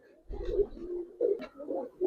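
Several low, throaty coos from close-by Gribaz coloring pigeons come in soft bursts, each swelling and fading, with short pauses between them.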